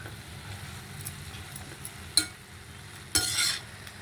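Ingredients fry in a pan with a soft, low sizzle, and a spatula stirs and scrapes now and then. Two louder scraping bursts cut in near the end, and no voice is heard.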